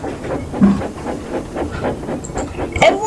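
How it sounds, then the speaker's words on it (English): Steam locomotive hissing with rail clatter, a fairly soft, steady hiss and rumble broken by short clanks and a brief sharp burst near the end. "there is a blue engine named Edward, part of the steam team we know today"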